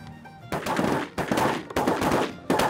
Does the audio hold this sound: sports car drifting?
no